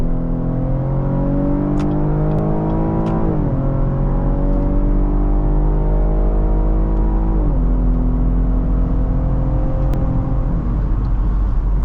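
A 2022 Cadillac XT5 with the 3.6-litre AWD engine accelerates steadily, its engine note climbing and dropping back at each of two gear changes, a loud, continuous drone heard from inside the cabin with no talking.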